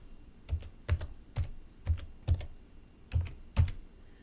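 Keys on a computer keyboard tapped to type a new Linux password, about eight distinct clicks in an uneven rhythm, close and fairly quiet, with no voices.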